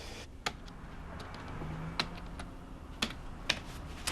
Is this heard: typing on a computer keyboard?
yes